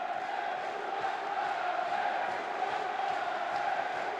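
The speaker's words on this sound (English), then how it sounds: "It's awoken the crowd here, isn't it? At the Aku Stadium. Great noise sweeping around this ground." A football stadium crowd at the Aku Stadium roars in a sustained wash of cheering and shouting, loud and steady throughout.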